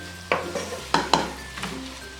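A spoon stirs a thick carrot and semolina mixture with condensed milk in a pan, giving a few distinct scraping strokes at an uneven pace, close and moderately loud, with no talking.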